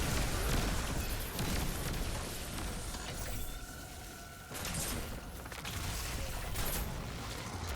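Grenade blasts and weapon fire in Destiny 2 on a Sepulcher legend lost sector, heard as dense, continuous loud gameplay noise with heavy booms and crackling bursts.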